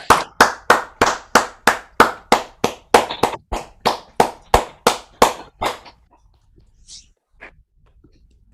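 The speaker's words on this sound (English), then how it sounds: "give you all one final heartfelt round of applause to congratulate you on your achievements" A few people clap together in a steady, rhythmic round of applause at the close of a virtual graduation ceremony, loud and close, then it stops abruptly and leaves near silence with faint small noises.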